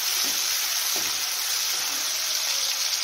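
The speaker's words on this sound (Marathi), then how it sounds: "सर्व फ्राय करून घेऊया" Garlic, curry leaves and chopped tomato sizzling in oil in a pan, a loud, steady hiss that runs unbroken throughout with a couple of faint soft knocks.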